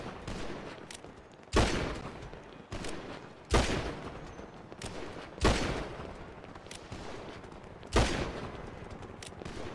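Sustained gunfire lays down covering fire in the GTA video game: rapid automatic bursts with four or five sharper, louder volleys standing out over continuous crackling shots, moderately distant and steady throughout.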